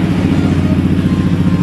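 A Motorstar Z200 200cc motorcycle fitted with an SC Project exhaust idles close by in a loud, steady, throbbing pulse, a short burst with no talking.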